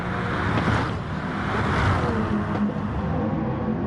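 Racing car engine from a video game race at Kyoto, a steady mid-level drone that holds over a noisy background, with no talk over it.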